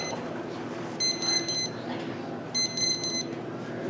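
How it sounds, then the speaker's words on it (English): A drone powered only over USB gives a low-battery warning as two bursts of rapid, high electronic beeps over a steady background hum, each about two-thirds of a second long and separated by a short pause. "So it's beeping because it's only plugged in from the USB."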